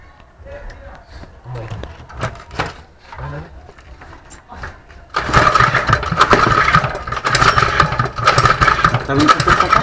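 Someone's new motor cranks and catches, a quiet stretch of sputtering attempts with voices chatting nearby, then a sudden loud, steady running roar from about halfway through that continues under the talk.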